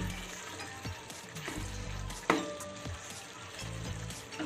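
Papaya curry (pepe chhokka) simmering and reducing in a pan, a close continuous sizzle and bubbling with a few soft stirring scrapes and one brief clink.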